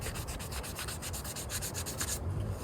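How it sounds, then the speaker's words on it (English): Plastic car aero parts, a diffuser, spats and spoiler for a WRX, are scuff-sanded by hand in quick, rhythmic back-and-forth strokes, a close, gritty rubbing that continues steadily without any voices. "Because you want to make sure that all the plastic has a nice scuff on it."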